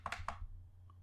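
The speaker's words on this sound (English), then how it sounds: "I'm double-clicking." Computer mouse double-click while downloading a file in Ubuntu 18.04: a quick pair of crisp close clicks, followed by a fainter single tick, over quiet room hum.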